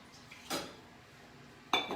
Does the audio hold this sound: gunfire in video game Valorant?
no